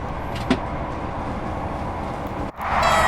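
A diesel HST train's steady rumble in Train Sim World 5 on the Midland Main Line rolls on with a brief clunk early on, then drops out for a moment before a louder, brighter engine roar takes over.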